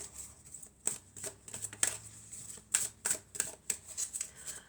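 Tarot cards are drawn and slid from a deck in a quiet room, producing soft papery flicks and snaps in an uneven series, close but faint, with no talk.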